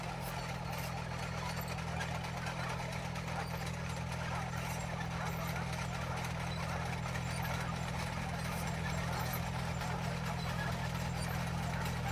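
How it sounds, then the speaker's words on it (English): A really old Fiat tractor engine running at a steady idle at a rural Italian permaculture property, a continuous low rumble with a fast knocking pulse, at moderate distance and fairly quiet. "The tractor was included when we bought the house. It's a really old Fiat."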